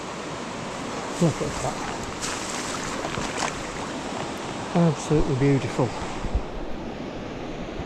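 A Cumbrian salmon river running high rushes in a constant broad roar close by, with someone speaking briefly over the water.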